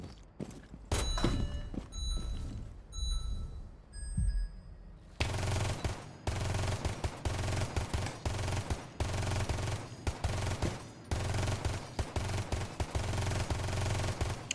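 Gunfire on a Rainbow Six Siege shooting range: a few isolated shots and thuds at first, then a long stretch of rapid, repeated automatic bursts firing loud and close with brief pauses.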